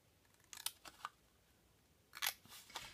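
Scissors snip the fold tab of a paper Harry Potter advent calendar in a few short, quiet cuts spread across two brief bursts, close by with no talking.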